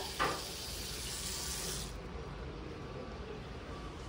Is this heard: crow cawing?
no